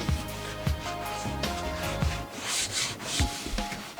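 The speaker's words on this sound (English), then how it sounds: "So you'll keep on scrubbing all sides." Scrubbing of a dirty oven coated in chemical oven cleaner, with no soap used: repeated close rubbing strokes in an uneven rhythm, with occasional light knocks, and no voices.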